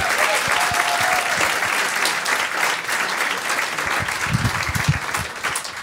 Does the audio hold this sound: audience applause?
yes